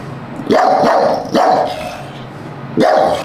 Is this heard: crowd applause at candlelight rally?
no